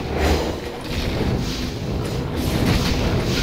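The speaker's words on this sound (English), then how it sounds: "Explosion things." Explosions in the video game Diablo II: a run of muffled booms and thuds rolls on continuously, fairly loud and rumbling, with no clear pauses between blasts.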